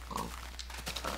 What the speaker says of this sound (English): Wow, look at all those pigs.